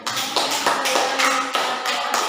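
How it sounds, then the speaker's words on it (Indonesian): Students in an Indonesian classroom clap together for a classmate in a quick run of rhythmic, crisp handclaps, close and loud, with no talking over them. "tepuk tangan untuk Linda"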